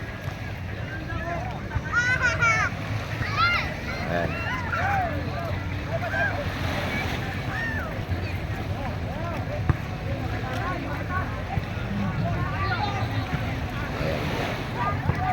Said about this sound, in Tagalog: Ihahatid sila rito ng bangka na yan.